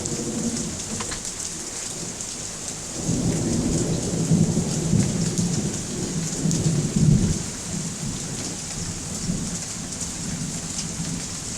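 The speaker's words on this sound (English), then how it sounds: "I'm recording the lightning storm." A Canadian thunderstorm brings steady rain hissing on surfaces while low thunder rumbles roll through in the middle, fading back to constant rainfall, with no speech.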